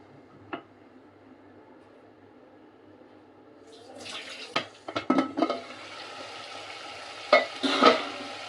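Chicken fry with masala sizzles in a pan on high flame, quiet at first, then a swelling close sizzle as the lid comes off and a spoon stirs with several scraping knocks.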